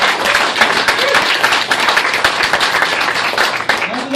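A comedy club crowd at the Improv Playhouse greets comedian Rudy Ruiz with steady, dense applause and cheering that fills the room for several seconds, with a few voices calling out over the clapping.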